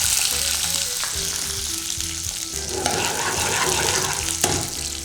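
Garlic cloves and chana dal fry in hot oil, a dense, continuous sizzle and crackle heard up close, with occasional stirring scrapes and no talk.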